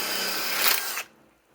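A Kobalt cordless right-angle impact wrench backs out timber lock screws, a loud sustained high-pitched whir for about a second that cuts off abruptly, followed by a brief quiet tail.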